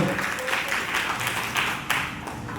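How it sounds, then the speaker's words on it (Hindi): Loud, sustained applause from an audience at an Akhil Bharatiya Agarwal Sangathan Teej Queen 2022 event, welcoming the organisation's general secretary and core team, a dense steady wash of clapping throughout. "एक बार उनका भी सब जोरदार तालियों से स्वागत अभिनंदन।"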